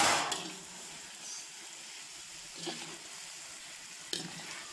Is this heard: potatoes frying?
yes